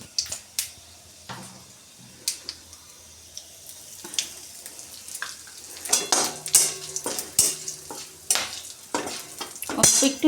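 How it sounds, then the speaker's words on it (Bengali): Whole spices of mace, cinnamon, clove and small cardamom fry briefly in oil for a vegetarian jackfruit and potato curry, giving a soft sizzle broken by clinking utensils, pot scrapes and stirring that grow busier toward the end. "অল্প একটু জয়িত্রী, দারুচিনি, লবঙ্গ, ছোটো এলাচ, একটু ভাজা ভালো গন্ধ বেরোলে"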